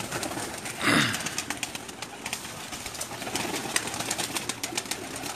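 Teddy pigeons coo softly in a loft, with a brief burst of wing flapping early on and faint scattered bird sounds through the rest.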